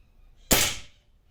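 A single sharp shot from a TAG Naja 2.0 air rifle fitted with a SnowPeak SU1200S, a loud near crack with a quick decaying tail, alone in a quiet setting.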